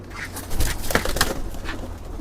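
Siraji pigeons kept in a cage, one sitting on an egg, give a few soft, throaty coos at close range against a faint background hum, with no talking.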